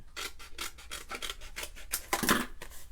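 Scissors cut scrap cardstock for a handmade Easter card, giving a quick run of about a dozen crisp snipping and rasping strokes in steady rhythm, close and clear.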